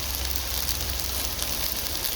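Chopped onion frying in hot ghee for a Chennai-style beef Madras curry, giving a continuous, even crackling sizzle at close range with no talk over it.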